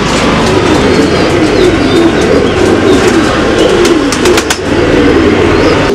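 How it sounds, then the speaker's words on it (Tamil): Table roller pigeons coo amid loud, constant outdoor ambience, with a few sharp clicks or chirps near the end. "இப்போ நீங்கள் பார்த்துட்டு இருக்கிற மாதிரி இந்த மாதிரி டேபிள் ஒயர்லேருந்து இந்த மாதிரி அடிக்க புறா வந்து டேபிள் ரோலர் அப்படின்னு சொல்லுவாங்க"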